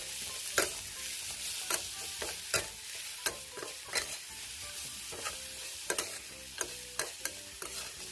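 Crispy pork stir-fried with chili, salt and spring onion in a hot pan, the spatula striking and scraping in a steady run of sharp clacks over a constant background sizzle, close up with no talking.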